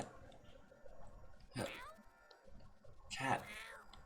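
A cat in the video game YIIK gives two short, clear meows, spaced well apart, over a quiet background with faint talk underneath.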